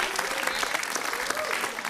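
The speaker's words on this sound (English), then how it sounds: "Give them a round of applause." Dense studio audience applause on a dating game show, a short steady burst of many hands clapping close and loud.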